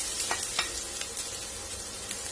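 Quiet, steady sizzling of ginger frying in hot oil, with a few soft stirring clicks.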